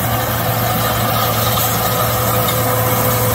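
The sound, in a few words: asphalt road roller engine running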